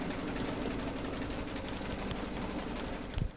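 An embroidery sewing machine stitches out lettering in a continuous, even mechanical hum with a rapid needle rhythm, close and steady throughout, with a couple of faint clicks near the end.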